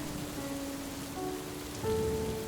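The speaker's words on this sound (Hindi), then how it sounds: "बारिश हो रही है" Steady rain falls in an animated Hindi moral story about a poor vada pav seller girl, a continuous even hiss with faint tonal music lines and a slight swell near the end, no voices.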